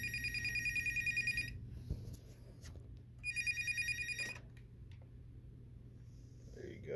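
An intercom telephone rings after its call button is pushed, giving two loud bursts of electronic bell trilling separated by a short gap, with a faint low hum underneath and a voice near the end.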